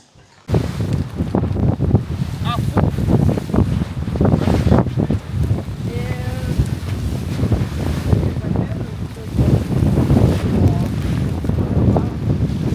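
Steady, loud seaside wind buffets the microphone with a constant roar and gusting rumble, briefly joined by faint distant voices.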